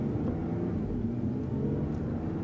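A 2015 Audi A7 50 TFSI quattro with S tronic gearbox sends a steady, low engine drone from nearby, with a fairly even level throughout and no voices.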